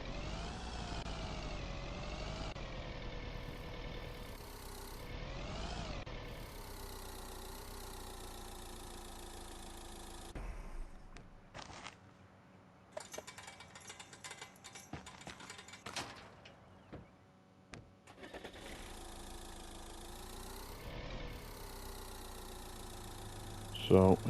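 A truck engine drives steadily in Road Maintenance Simulator on PS5, a low harmonic drone that shifts with revs, dipping into rougher, quieter rumbling midway and then returning to a constant hum.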